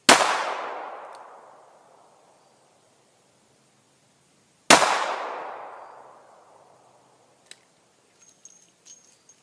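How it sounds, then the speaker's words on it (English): Two loud, sharp shots from a Taurus Tracker .44 Magnum revolver fired one-handed on an outdoor range, each with a long ringing decay, followed by faint small clicks. "I'm going to shoot dead center again with my left hand."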